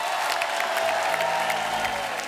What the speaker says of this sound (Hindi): आप सबकी जोरदार तालियों के बीच प्लीज वेलकम पलक मुच्छल।